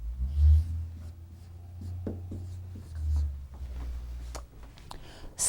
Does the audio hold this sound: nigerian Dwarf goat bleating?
no